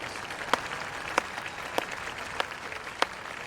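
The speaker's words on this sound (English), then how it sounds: "Let's give them an applause." Steady applause from an audience at a new student convocation ceremony, with a few sharper individual claps standing out at regular intervals over the crowd's continuous clapping.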